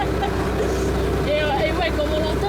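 A 1928 Ford Model A engine runs at a steady idle close by, an even low putter with faint tonal whines over it.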